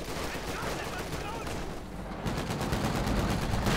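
Pak 40 anti-tank gun fire in the Company of Heroes 2 video game, with dense battle noise and overlapping gunfire bursts running throughout, growing louder near the end.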